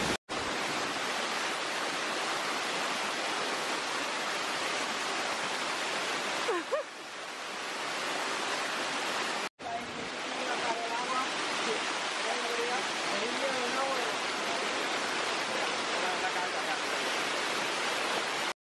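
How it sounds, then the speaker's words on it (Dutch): A waterfall along the Ruta de las Flores hike in El Salvador gives a loud, constant rushing roar, briefly interrupted, with faint voices talking under it. "En hier is nog de laatste waterval"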